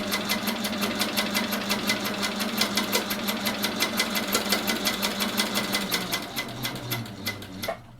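A sewing machine doing free-motion quilting stitches runs in a fast, even mechanical chatter of rapid needle strokes, close and steady for several seconds before slowing and stopping near the end.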